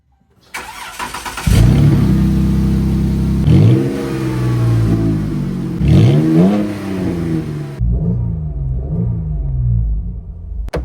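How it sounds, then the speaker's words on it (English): Jeep engine with its muffler removed and exhaust open, starting up and revving loudly in several surging bursts, deep raw rumble rising and falling, then settling to a rough, uneven idle. "we gotta see what it sounds like before we put the muffler back on"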